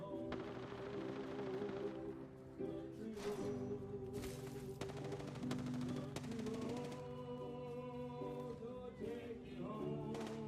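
Video game gunfire in rapid bursts, several loud volleys over a busy soundtrack with sustained musical tones throughout.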